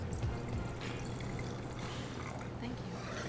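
Red wine, a 2011 Chateau Tour Carmail, is poured into Zalto glasses at a wine academy in Toronto, giving a soft continuous liquid pour under a steady background of room noise and people talking.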